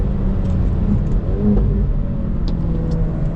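Hyundai i30 N accelerating hard in third gear on a track, the engine climbing from around 3,000 RPM as a steady close drone under faint cabin rumble, with no voices.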